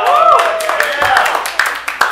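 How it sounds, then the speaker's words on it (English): Audience clapping at a live radio variety show, a brief ragged burst of applause with scattered individual claps, fairly close and loud. "Please keep that applause going for yourselves throughout the course of the evening."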